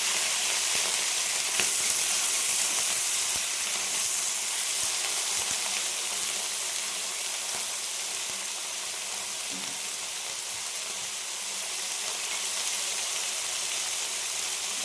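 Vegetables fry in a pan with a steady, dense sizzle and crackle throughout, close and continuous with no talking.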